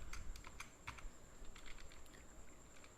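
Fast, steady typing on a computer keyboard as Hindi words are entered, many quick light key clicks in a continuous patter over a faint background hiss, with no speech.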